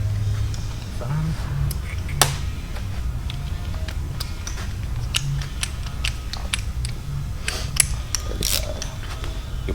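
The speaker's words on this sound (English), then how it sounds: "You'll probably have to flip the wrench around." A wrench clicks and ratchets on a Twin Cam 117 motorcycle engine during a gear drive install, with uneven metallic ticks and clanks over a steady hum, while people talk nearby.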